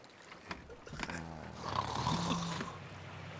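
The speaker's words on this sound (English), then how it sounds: "Their snoring is so loud, Officer Stray." Characters snoring loudly in Sea of Thieves: a rough, drawn-out snoring rumble rises midway and holds, preceded by a few scattered clicks and knocks, fairly close but at modest level.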